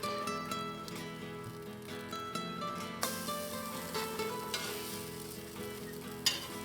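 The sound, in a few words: mussel and prawn fritters frying in a pan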